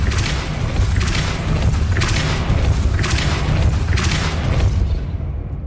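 Depulso spell cast in the Hogwarts Legacy game, a series of loud booming blasts with deep rumbling, about four whooshing bursts roughly a second apart over a continuous low roar.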